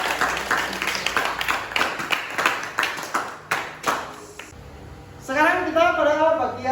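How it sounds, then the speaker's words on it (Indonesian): Classroom clapping as students and teacher applaud together, a burst of uneven hand claps over the first few seconds that thins out before a voice speaks. "Tepuk tangan untuk kita semua."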